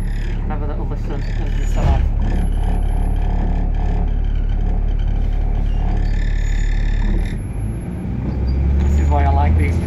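An Alexander Dennis Enviro400 Trident double-decker bus, a Stagecoach vehicle, pulls away with a loud, close low engine drone and rising gear whine heard from on board, with a brief pause in the engine note before it builds again.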